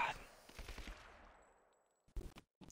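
Gunfire in the video game Rise of the Tomb Raider: a dense burst of rapid shots with a decaying tail, then a few sharp follow-up shots after a brief lull.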